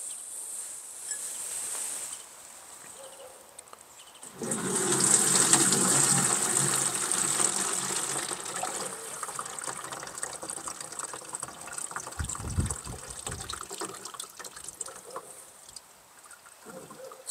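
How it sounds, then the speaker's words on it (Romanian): Water runs into a 10-litre watering can to dilute willow extract, a steady broadband gush starting after a quiet few seconds and continuing loudly with slight variation to the end. "Deci voi pune un litru de extract și 9 litri de apă."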